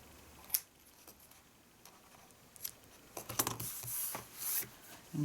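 Scissors snip the ends of ribbon on a tied bow atop a copper embossed gift box, a few sharp close cuts and rustles spread over several seconds with no talk.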